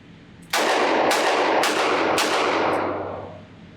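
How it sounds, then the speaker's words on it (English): Rapid volley of .22 WMR shots from a Standard Manufacturing S333 Thunderstruck revolver at an outdoor range: four loud, closely spaced cracks about half a second apart, each ringing into a sustained echo that fades out. "point the gun at it, and just pull the trigger as fast as I can."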